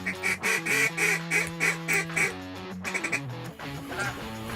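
Ducks quack repeatedly in rhythmic bursts during a river waterfowl hunt, the calls loud and close in a steady series, with a brief pause and scattered quacks afterward.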